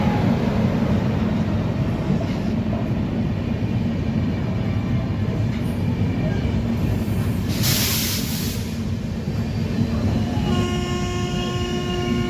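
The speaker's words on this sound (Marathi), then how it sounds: "Panvel Nanded express platform number 3 वर आलेली आहे नांदेडच्या।" The Panvel Nanded Express pulls into platform 3 at Nanded station with a steady, loud rumble of wheels and carriages close by, and sustained horn tones sound near the end.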